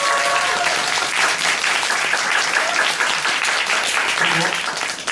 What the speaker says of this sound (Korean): 다시 한번 배우들에게 큰 박수 한번 부탁드리겠습니다